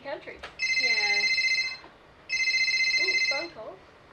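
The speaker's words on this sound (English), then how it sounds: "Ooh, phone call." A telephone rings in two long trilling bursts separated by a pause, bright and close, with people talking briefly before, between and after the rings.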